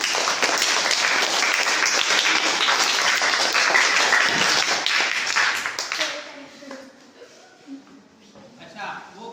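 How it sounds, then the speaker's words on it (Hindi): Classroom audience breaking into dense applause for about six seconds, then fading to scattered claps and faint voices. "तालियां लगाएं।"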